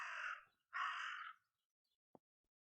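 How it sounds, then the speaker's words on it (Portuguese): A raven gives two loud, harsh caws close by, each lasting about half a second, with a tiny click afterward and then silence. "That raven is making a big fuss."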